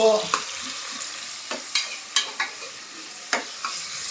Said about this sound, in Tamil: தக்காளியை போடு, கிண்டுங்கோ